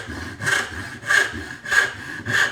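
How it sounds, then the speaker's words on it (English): Hand saw cutting a wooden tenon, four regular rasping strokes close by, each rising and fading in a steady back-and-forth rhythm. "So I'll come in right up against that line, support the saw well."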